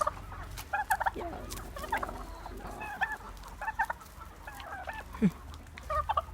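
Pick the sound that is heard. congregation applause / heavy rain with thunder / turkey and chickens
turkey and chickens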